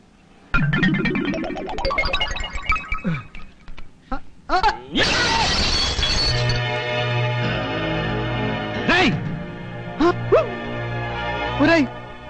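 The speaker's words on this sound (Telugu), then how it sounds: "నా కొత్త కారు అద్దం పగల కొడతారా?" Glass on a new car is smashed in a film scene, with a loud crash and shattering followed by a chaotic stretch of shouting voices and clattering noise.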